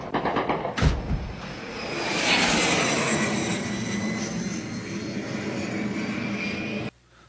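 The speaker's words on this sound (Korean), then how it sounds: "이 영상은 그 체르니히우 지역의 스노보크 마을 상공을 비행하는 제라늄 로켓인데 소리가 맹 그 소리 아니죠?" A Geran drone with a jet engine flies over the village of Snovsk in the Chernihiv region, a rising roar that swells to a sustained, moderately distant whine after a sharp thump, then cuts off abruptly.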